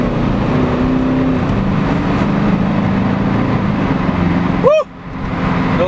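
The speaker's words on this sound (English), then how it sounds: "Damn, this car's fast." A car accelerates hard on a public road, its engine roaring loudly and steadily as it builds speed for several seconds before a sudden brief drop, then picks back up; no talking is heard.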